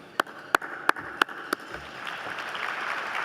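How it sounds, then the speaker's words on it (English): A few sharp hand claps ring out singly at a university scholarship ball, five distinct claps, then a rising wash of broader applause and crowd murmur building toward the end. "we deserve a round of applause"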